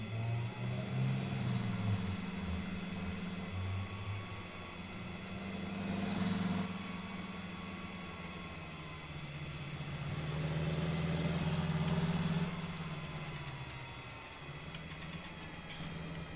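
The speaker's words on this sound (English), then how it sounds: "So I'm going to take this tractor over" A tractor engine in Farming Simulator 19 drones steadily as it drives, with a low, rumbling tone that swells and eases slightly, heard alone at moderate volume.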